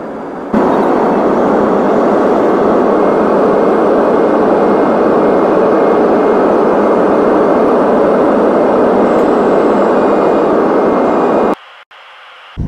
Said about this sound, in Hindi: आप ओरिजिनल साउंड इंजन का,